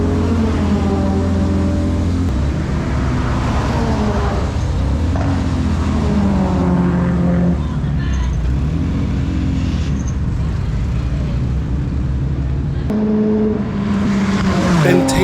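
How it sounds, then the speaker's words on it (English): A Time Attack race car goes full throttle around the Brands Hatch circuit, its loud engine drone rising and falling through gear changes for the whole stretch, with a brief dip near the end before it pulls hard again. "Ben takes the track and, as expected, leaves no tarmac unturned as he goes full throttle around brandshatch"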